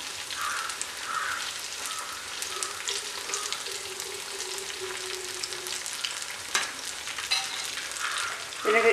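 Banana fritters coated in bread crumbs sizzle steadily in hot oil in a pan, a continuous close crackle with small pops and a faint scrape or stir, and no talking.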